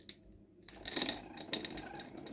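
A spoon stirs a vanilla-flavoured drink in a glass with an ice cube, giving a few light clinks and scrapes against the glass, close and quiet, with no talk.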